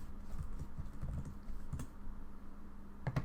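Typing on a computer keyboard during a Python programming lesson: a quick, uneven run of soft, close key clicks. Low hum sits under the clicks and no one speaks.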